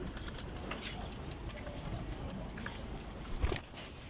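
Pigeons coo softly at close range over a low, steady background, with scattered light rustles and taps and one brief louder knock near the end.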